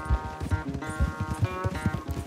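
Rapid hoofbeats thud in a quick, rhythmic race gallop in Red Dead Redemption 2, close and steady, with a faint tonal background.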